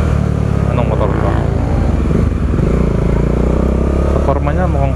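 A Kawasaki motorcycle passes on the road, its engine drone rising and shifting pitch nearby while someone talks loudly over it the whole time.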